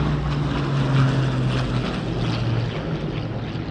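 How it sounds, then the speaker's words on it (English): A Supermarine Spitfire and a Hawker Hurricane with Merlin piston engines drone overhead at Grand Harbour, Malta, a loud, steady propeller roar with a low humming engine tone throughout. "it was time to loudly announce the return of a Supermarine Spitfire and a Hawker Hurricane."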